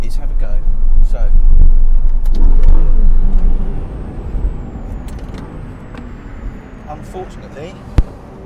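An Audi R8 V10 sports car drives past loud and close, engine roaring then fading into a quieter rumble, with a sharp thump near the end.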